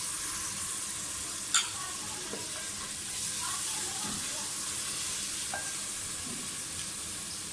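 Garlic-ginger paste sizzles and crackles in hot oil with onions, a continuous close frying hiss with a sharp clink of a utensil early on.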